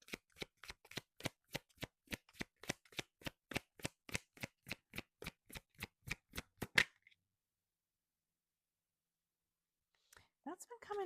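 Oracle cards shuffled by hand, about two dozen crisp, evenly spaced riffling snaps close up, then silence and a brief rustle at the end.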